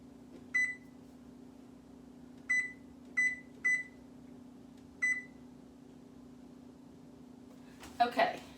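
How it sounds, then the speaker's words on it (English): A kitchen oven timer gives five short, sharp electronic beeps at uneven intervals as it is set, over a low steady appliance hum, ending with a brief clatter. "let me set my timer"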